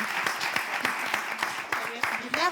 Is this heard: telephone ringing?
no